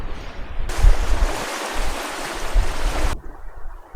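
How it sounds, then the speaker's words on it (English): Choppy water slapping around a sailing boat under way in about 12 knots of breeze, a rushing wash that swells loud in the middle with low thumps of chop against the hull. "You can see the water's a little bit choppy, but the boat is so smooth."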